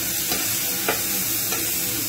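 Steak strips fry in a hot pan for a cheesy steak sandwich, giving a steady close sizzle with a few brief stirring scrapes and no talk.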